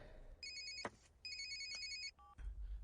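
A telephone rings in bursts of bright electronic trilling tones, two longer rings then a short different beep, faint and alone over quiet room noise in a dubbed film scene.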